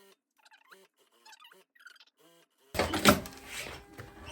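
After a few quiet vocal sounds, a sewing machine bursts into fast, loud stitching for under two seconds, closing the waistband seam on a faux leather midi skirt.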